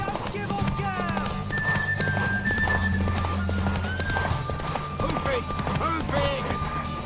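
In The Witcher 3 video game, a horse gallops with steady, rhythmic clip-clop hoofbeats and whinnies, all under game music and shouting voices.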